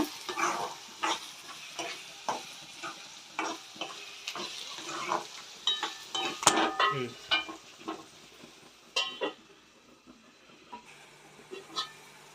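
A spoon repeatedly scrapes and stirs cauliflower curry in a pan, in irregular strokes over a soft sizzle. The strokes are close and distinct, then thin out and grow quieter toward the end.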